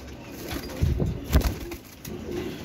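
A Dab wali breed pigeon coos softly a few times, low throaty murmurs close by with light rustling in between.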